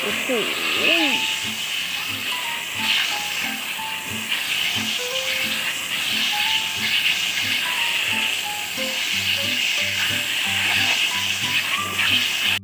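A Big Blue water filter cartridge being rinsed under running water, giving a continuous loud hiss of spraying water that lasts throughout, with a voice faintly present beneath it.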